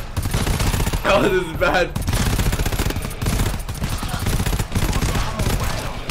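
Rapid, dense gunfire from the co-op horror shooter GTFO rattles on without a break as players fight off crawling creatures. A voice shouts in alarm over the sustained barrage.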